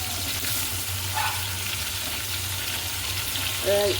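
Fish pieces frying in hot oil in a pan, a steady broadband sizzle running evenly throughout, with faint low hum beneath and a brief tonal clink near the end.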